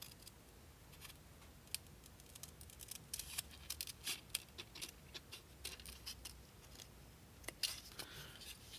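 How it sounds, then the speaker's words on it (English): Scissors snip paper for a collage in a quiet room, with a series of faint, close, irregular clicks and crisp cuts. "I'm going to cut the other way back into the corner"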